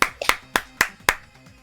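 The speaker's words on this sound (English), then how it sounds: "Clapping, clapping, clapping, clapping." Sharp hand claps from the video game Danganronpa 2: Goodbye Despair, five distinct claps in a quick, slightly uneven rhythm, close and crisp with no voices.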